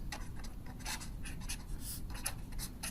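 Pen strokes scratch across paper as coordinates for a hyperbola are written out by hand, a series of quick, faint, close-up scratching bursts with no talking.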